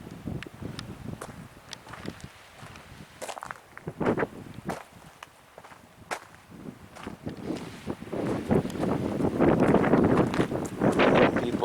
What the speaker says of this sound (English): And it's very, very windy this morning.